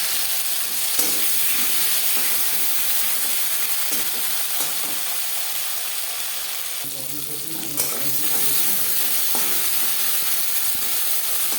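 Chopped tomatoes frying in oil with five-spice, a loud continuous sizzle and hiss with a brief burst of stirring partway through.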